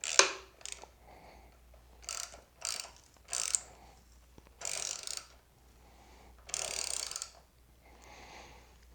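A clamp on a Fastway trailer hitch stabilizer is tightened with a ratchet, giving repeated bursts of close, rasping clicks separated by short pauses.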